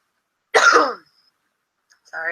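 A single harsh cough or throat-clearing burst, close and fairly loud, followed by silence and then a brief voice at the end.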